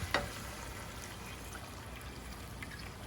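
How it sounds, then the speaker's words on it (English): About a cup of white wine is poured into a hot pan, a quick splash at the start followed by a soft, faint trickling sizzle that carries on quietly. "About a cup of white wine"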